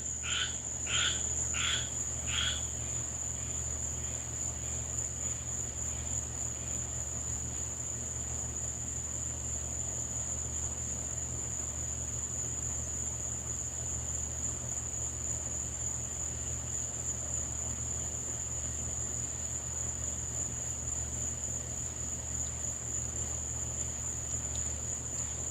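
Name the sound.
tree frogs calling at night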